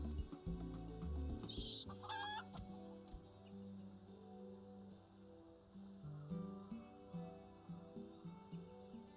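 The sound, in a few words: chickens clucking in a video game (Final Fantasy XIV)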